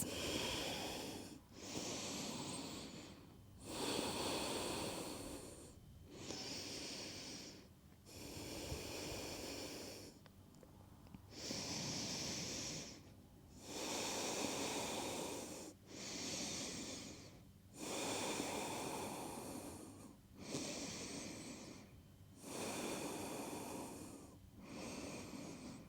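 Slow, steady breathing during a gentle yoga hip stretch, with long audible inhales and exhales repeating about every three seconds, close and fairly loud with no talking.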